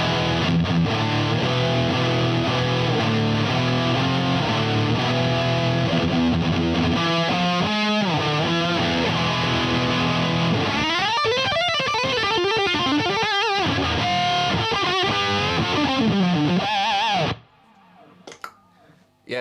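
Electric guitar played through a Boss SD-2 dual overdrive pedal with drive and level at full, giving a loud, saturated distorted tone of sustained chords and lead runs before cutting off abruptly near the end, leaving faint hiss.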